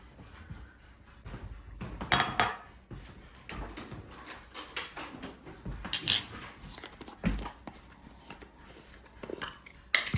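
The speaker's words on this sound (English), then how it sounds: "we are going to first scoop some peanut butter out" Peanut butter being scooped from a jar while making homemade ice cream: scattered clinks and scrapes of a utensil against the container, irregular and close, with quiet gaps between the sharper knocks.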